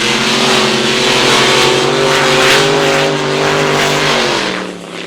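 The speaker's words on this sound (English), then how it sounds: "The motor sounds really tough in this boat arrival." A 565 cubic inch racing boat motor roars steadily and loud at close range during a practice run at a racetrack event, its deep harmonic drone holding constant before easing off slightly at the end.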